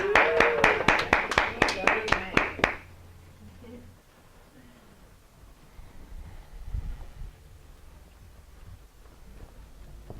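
A quick burst of hand clapping from a few people, sharp and close, lasting a couple of seconds before fading into quiet room noise.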